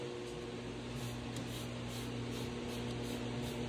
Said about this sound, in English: we're going to liberally go around and just keep spraying